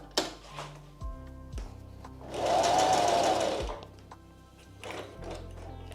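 A sewing machine stitches a quilted makeup pouch in a steady, loud mechanical whir, with short bursts of stitching broken by pauses and clunks as the presser foot is lifted and the fabric pivoted.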